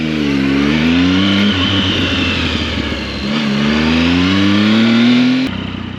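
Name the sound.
Triumph Speed Triple motorcycle engine with K&N air filter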